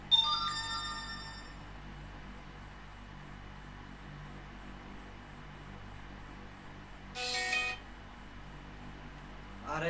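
A phone ringtone plays for about a second and a half at the start, and a second, shorter burst of ringing sounds briefly later, both over quiet background hiss.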